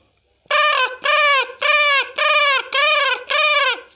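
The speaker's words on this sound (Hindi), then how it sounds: "कौवे की आवाज़ निकाल रहे हैं।" Six harsh, drawn-out bird calls in a steady series, each about half a second, loud and close with short gaps between them.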